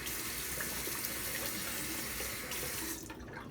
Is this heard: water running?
yes